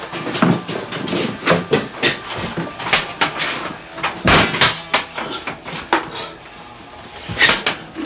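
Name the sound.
someone knocking at the door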